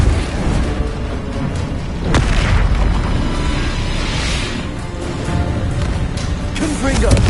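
Explosive spells Confringo and Bombarda are cast in Hogwarts Legacy, producing loud, dense booming blasts with whooshing bursts over a constant rumble. A voice is heard beneath the explosions.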